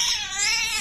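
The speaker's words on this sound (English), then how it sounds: "Oh, it's an angry kitten." An angry kitten brought in to a vet yowls in a loud, continuous, high-pitched wail that wavers in tone, close and alone.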